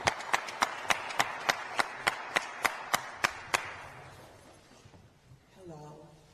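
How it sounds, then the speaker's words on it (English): Sharp, evenly spaced claps, about a dozen in a steady beat, ring out from an audience at a podcast-recorded event, then fade into quiet and a brief voice. "Give her a big round of applause."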